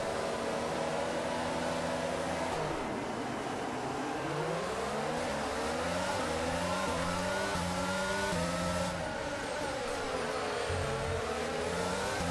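Formula 1 cars in F1 22 launch off the grid at Monaco, layered engines screaming and climbing in pitch through the gears together, loud and continuous with no talk.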